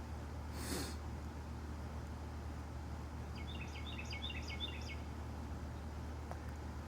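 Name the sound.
birds calling outside a woodshed in the morning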